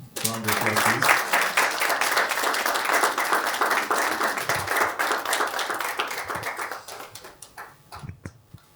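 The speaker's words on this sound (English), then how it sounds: "Round of applause, please." An audience at an investor forum breaks into applause, a dense burst of many hands clapping that stays steady for several seconds, then thins into a few scattered claps, with a voice briefly heard at the start.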